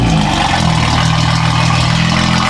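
A BMW G80 M3 engine drones loudly and steadily at close range, its deep exhaust tone rising slightly in pitch partway through as it revs, with no voices heard.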